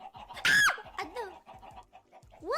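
A cartoonish chicken clucks and squawks in short, bright bursts, one loud rising squawk standing out among quick repeated clucks, all close and clean.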